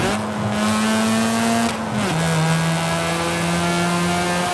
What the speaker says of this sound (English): that sounds just like an RX-8 in real life